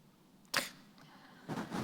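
A camera shutter click sound effect gives one sharp click, then a softer, longer burst of noise near the end, both close and fairly faint against a quiet background.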